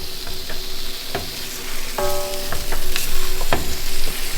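Beef being stirred into a hot spiced masala for Kerala beef curry, a loud steady sizzle with scraping and clanking spoon strokes against the pot.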